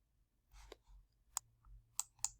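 A computer mouse is right-clicked, giving a few quiet, sharp clicks in a near-silent room.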